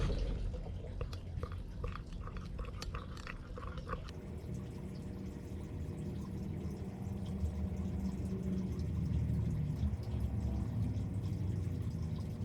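Liquid soft plastic is poured into a clamped plaster mold for fishing bait tails, giving a faint, steady trickle with a few quiet drips and clicks early on; quiet and close, with no talking.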